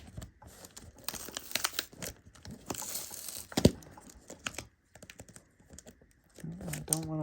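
Someone peels a stubborn sticker off a cardboard trading card package, giving close crinkling and tearing scrapes in irregular bursts, with a voice speaking briefly at the end.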